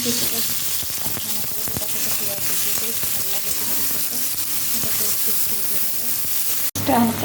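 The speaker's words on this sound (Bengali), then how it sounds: "এখানে ডিমের পেঁয়াজগুলোকে একটু ভেজে নিয়ে ডিমের মশলাটা কষিয়ে নেব" Onions frying in a pan for egg curry give a continuous close sizzle and hiss with occasional stirring, cutting out briefly near the end.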